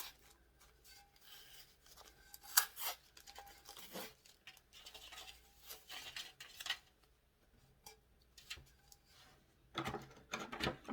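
Heat tape being peeled and lifted off a 20oz sublimation tumbler by a gloved hand, giving intermittent soft rubbing and rasping scrapes with a few sharper crackly bursts, close up with no talking.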